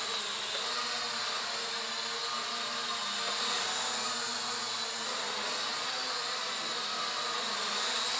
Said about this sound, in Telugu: ఇప్పుడు చూడండి ఎంత ఫాస్ట్గా మూవ్ అవుతుందో చూడండి డ్రోన్ అన్నది.